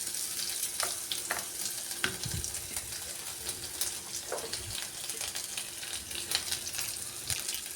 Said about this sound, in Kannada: ಎರಡು ದೊಡ್ಡ ಗಾತ್ರದ ಈರುಳ್ಳಿಯನ್ನು ಸ್ಲೈಸ್ ಆಕಾರ ಕಟ್ ಮಾಡಿಕೊಂಡು ಹಾಕೊಳಕತ್ತೀನಿ ರೀ